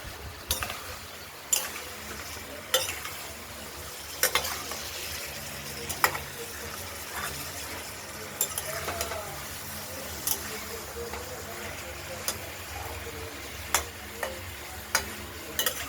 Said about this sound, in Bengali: আমরা নাড়াচাড়া দিচ্ছি।